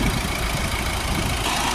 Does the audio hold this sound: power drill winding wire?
no